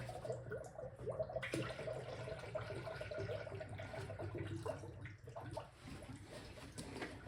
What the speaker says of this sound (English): here come the bubbles